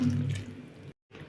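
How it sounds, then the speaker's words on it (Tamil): Water is poured into a simmering sardine fish curry masala with ground coconut in a cooking pot, a short splashing pour that stops abruptly, then faint kitchen sound resumes. "அது கூடவே கொஞ்சம் தண்ணி சேர்த்துக்கலாம்."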